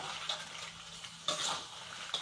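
Blue crab stir-fried with egg and curry powder over low heat gives a steady soft sizzle, with a utensil scraping and stirring through the pan in a few louder strokes, close by.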